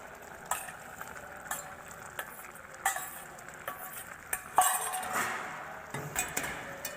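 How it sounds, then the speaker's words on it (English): Adzuki beans going into rice in a cooking pot, with faint stirring scrapes, light clinks and a soft sizzle under a quiet background, punctuated by a few sharper knocks. "Now we are going to add ojuki beans into rice."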